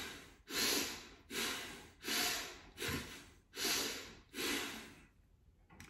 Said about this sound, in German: wir atmen mit der Bauchdecke, und zwar wie ein Blasebalg, gleichmäßig ein und aus